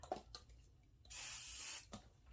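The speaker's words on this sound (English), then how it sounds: "first I'm actually gonna spray some hairspray" A single sustained hiss of hairspray from an aerosol can lasts under a second, close by, between a few faint clicks and taps in a quiet room.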